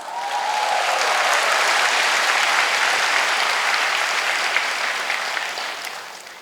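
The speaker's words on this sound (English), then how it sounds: "Give yourself a big round of applause" Sustained applause from a large audience, a dense wash of clapping that swells quickly, holds steady for several seconds, then begins to taper off.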